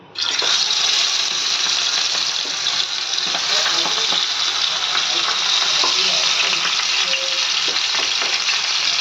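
A fish head rubbed with salt and turmeric fries in hot oil in a pan, giving a loud, continuous sizzle and crackle that begins abruptly and holds steady throughout, with no voices.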